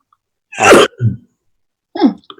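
A single loud sneeze during an online video call, followed by a brief lower burst, then a short second vocal burst about a second later; otherwise quiet.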